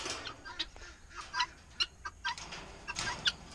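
Guinea fowl cluck and chatter in the morning, a run of short, bright, scattered calls at close range with quiet gaps between them.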